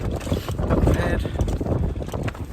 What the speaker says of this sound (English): as you can hear, it's pretty windy up ahead